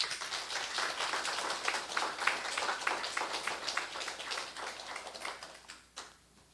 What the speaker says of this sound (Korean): 김태형 군을 위해서 박수로 격려해 주도록